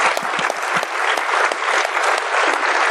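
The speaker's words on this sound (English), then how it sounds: "A little round of applause for Capslock." Audience applause at a panel discussion event: brisk, dense clapping from a crowd, loud and close, sustained without a break and with individual sharp claps standing out.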